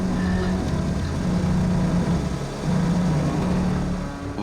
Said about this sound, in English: We brought a couple of trucks up there thinking that we could just pull it backwards.